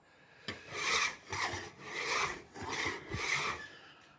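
A wide sharp scraper rasps across painted embossed ceiling wallpaper backing in four or five rhythmic, close strokes, each a gritty scrape separated by brief pauses.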